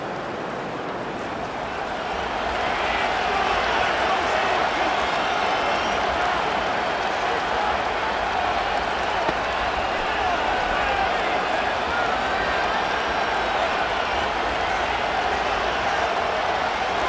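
A roaring stadium crowd in a Madden NFL 25 game between the Atlanta Falcons and New York Jets, a steady dense wash of cheering that swells after the first couple of seconds and holds loud throughout.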